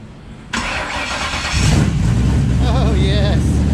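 A Coyote V8 swapped into a 1985 Ford Mustang GT fires up abruptly and settles into a loud, steady idle, swelling into a heavier rumble with a short rev partway through, with people talking over the engine.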